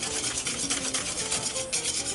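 Lime juice and zest being stirred together in a bowl for a key lime pie, a steady close rubbing and scraping of utensil against the bowl with no talking.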